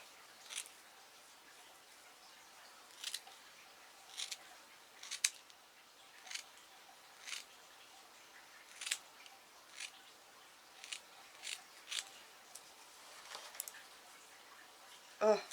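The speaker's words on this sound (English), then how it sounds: "And then I'm just going to cut my circle out." Scissors snipping around a circle, a steady series of quiet, short crisp cuts spaced about a second apart, close and alone in a quiet room.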